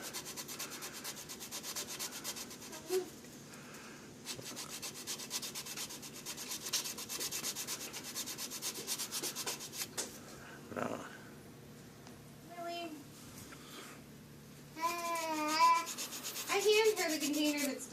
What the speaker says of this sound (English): you just sand like you normally would sand anything pretty much